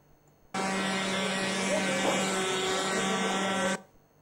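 Engine of a remote-controlled airship, a steady loud mechanical buzz with a constant whine that starts abruptly, holds for about three seconds, then cuts off sharply.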